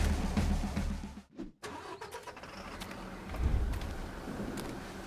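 4x4 car driving off-road, its engine close and rumbling with rising and falling revs, a brief dip and surge partway through, and a steady mid-pitched drone continuing to the end.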